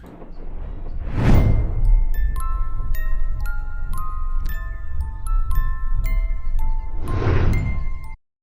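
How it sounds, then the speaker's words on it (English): Delicate music box notes tinkle in a steady melody, with two soft whooshing swells rising and falling around them. "The music box is an amazing addition"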